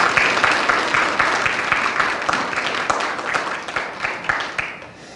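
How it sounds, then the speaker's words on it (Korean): Church congregation applauding the choir after a hymn, a close, dense burst of many hands clapping that fades slightly over about five seconds, with individual claps standing out near the end. "우리 격려의 박수 하겠습니다"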